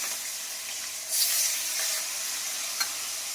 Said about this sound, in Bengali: তো গরম হয়ে গেল, এবারে মাছগুলো একে একে ছেড়ে দেবো। হালকা করে ভেজে নেবো